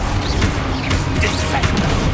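Spell blasts crash and bang in rapid succession during a Hogwarts Legacy fight, loud and close, mixed with a shouting voice.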